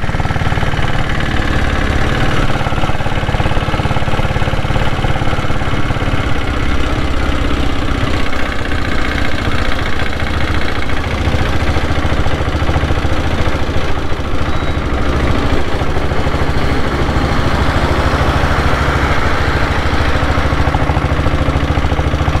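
A Royal Enfield diesel Bullet motorcycle runs continuously while cruising at about fifty, its close, loud, rumbling diesel thump holding steady throughout, with road and wind noise mixed in.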